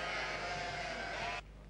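Sheep bleating in a Polish mountain-pasture setting as flocks and shepherds depart, a steady sustained bleat under broadband noise that cuts off abruptly near the end, leaving only low hum.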